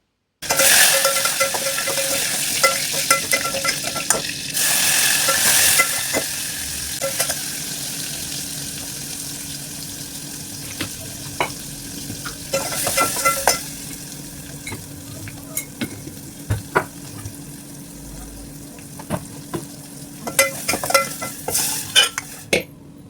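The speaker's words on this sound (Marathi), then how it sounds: "चला आता पटापटा पहिल्यांदा आमटी फोडणीला टाकूया" Dal tempering for amti sizzles in a hot pan while a spoon stirs and scrapes against the metal, with loud bursts of frying at the start and again midway, then quieter sizzling and sharp utensil clicks.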